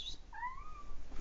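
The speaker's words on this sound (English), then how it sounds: "I think there's a cat at the door wanting to come" A cat meows at a door, wanting to come in: a single short, rising-then-falling meow, fairly quiet and heard on its own.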